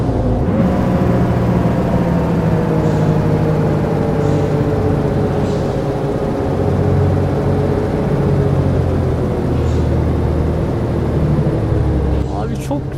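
An old 1980s-model bus engine in the Euro Truck Simulator 2 driving game gives a steady, low droning rumble that holds loud and even throughout, with someone talking over it.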